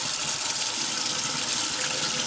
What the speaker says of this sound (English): then I turn on some cold water